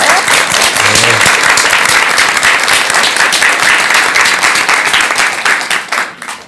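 Loud, sustained applause from a large lecture audience welcoming a Buddhist monk, dense steady clapping throughout, tapering slightly at the very end.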